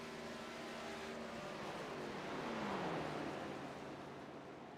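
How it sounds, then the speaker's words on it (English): A race truck on the Truck Series oval at Homestead-Miami Speedway passes with its throttle cut on and off, the engine drone rising and falling in pitch as it sweeps by at moderate distance, fairly faint. "Sounded like there for a moment he was cutting that truck on and off."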